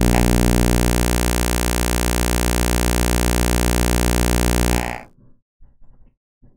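A 60 Hz buzz siren alarm drones loudly and steadily for about five seconds with a dense low harmonic hum, then cuts off abruptly, leaving faint scattered knocks and noise.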